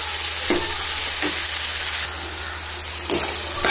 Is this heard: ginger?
yes